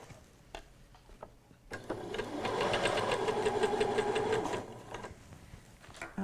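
A sewing machine stitches an invisible zip seam, starting on the spot. It whirs in a steady, rapid run for about three seconds after a few faint ticks, then stops, close up and with no talking.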